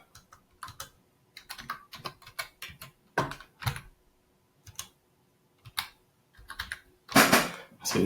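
A PayPal password being typed on a computer keyboard: quick, irregular bursts of close, crisp key clicks separated by short pauses, with no talking.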